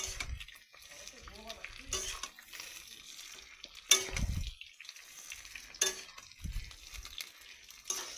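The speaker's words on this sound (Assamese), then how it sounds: "অলপ টাইম ভাজি ল'ম।" Asar being fried in a little oil in a pan gives a soft sizzle, broken by intermittent scraping and clinking strokes of a utensil against the pan, with a voice talking throughout.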